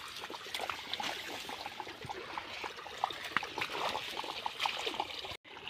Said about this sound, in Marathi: कपाशीला पाणी देणे चालू आहे